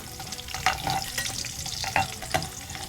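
Garlic cloves frying in hot oil, a steady close sizzle with scattered crackles and spoon-like clinks as they are stirred in the pan.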